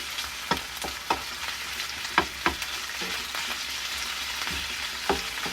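Shrimp and aromatics frying in hot oil in a pan for a Filipino sotanghon noodle dish, a steady sizzle broken by repeated sharp crackles and stirring scrapes, close and with no talk.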